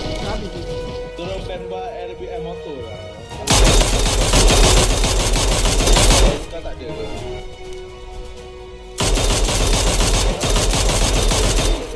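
Two long, loud bursts of rapid Mini 14 rifle fire in PUBG Mobile on the Miramar map, each lasting a few seconds, separated by a stretch of excited talking.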